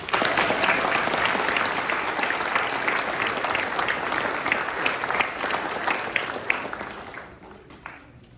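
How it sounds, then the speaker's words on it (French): Audience applause for guests at a mayor's New Year greetings ceremony in Pomponne, France: dense, steady clapping from a crowd in a hall, loud throughout and thinning slightly toward the end. "que nous applaudissions nos invités pour les remercier"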